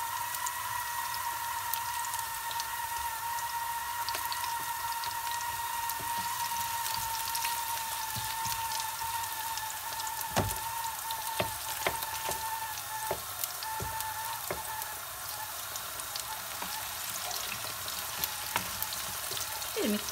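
Tomato paste fries in a pan with a steady crackling sizzle, and a constant hiss is broken by scattered pops and occasional louder spits while it cooks, close and alone.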